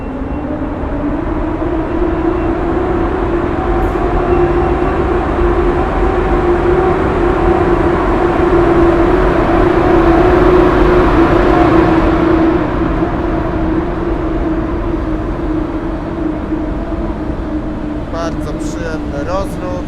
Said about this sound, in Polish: Zosia rusza w kierunku stacji Warszawa Wschodnia, czyli swojej stacji docelowej.